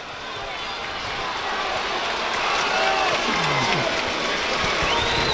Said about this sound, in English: I cannot understand how he's getting a round of applause.